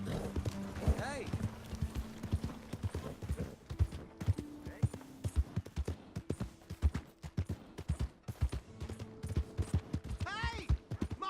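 Horse hooves clopping in Red Dead Redemption 2, a steady run of sharp, close hoofbeats over game music and an occasional whinny, with voices talking over it.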